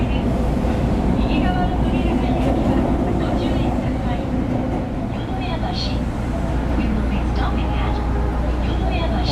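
Osaka subway train running on the busy main metro line, a steady loud rumble and rail roar filling the whole stretch, with people talking over it.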